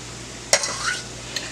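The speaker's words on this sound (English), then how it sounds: "Here we got our cabbage and our carrots. Just stir it a little bit." Cabbage and carrots are stirred in a cooking pot, a single brief scrape and clink of the utensil followed by a faint soft tap against a low steady background hum.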